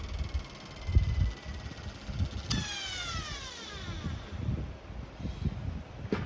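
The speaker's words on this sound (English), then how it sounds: "I can tell that the natural rotation was counterclockwise because listen to the brushes. They're louder than" An antique Delco electric motor spins with noisy brushes, giving a steady hum and a rough scraping rustle; a high whine slides downward as it slows, with low thumps underneath.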